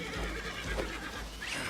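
A horse whinnies in Red Dead Redemption 2, a loud shrill neigh rising near the end, set over dense game ambience and low rumbling hoof and movement noise.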